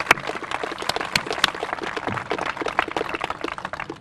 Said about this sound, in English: So I want to give a round of applause to those staff folks.